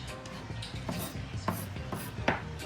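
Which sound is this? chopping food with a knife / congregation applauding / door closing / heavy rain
chopping food with a knife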